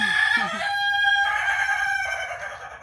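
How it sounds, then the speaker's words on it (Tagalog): A rooster crows nearby, one clear drawn-out cock-a-doodle-doo with some clucking at the start, heard alone against a quiet background. "Ayan yung ano, manok."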